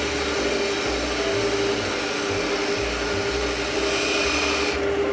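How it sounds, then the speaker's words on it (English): Skew chisel cutting a bead on a wood lathe, a continuous hissing, rasping scrape of the blade on spinning wood over the lathe's steady motor hum, close and constant without talk. "I engage with the point, and then I ride the bevel all the way down."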